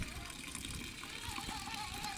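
Water pours steadily from a drinking spring in a Kyiv-area park, a continuous splashing gush heard close by without talk over it.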